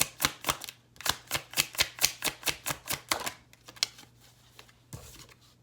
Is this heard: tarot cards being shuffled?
yes